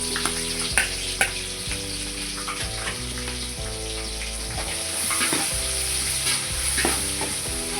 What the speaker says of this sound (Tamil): இப்போ வெங்காயம் போட்டுக்கலாம். பச்சை மிளகாய்,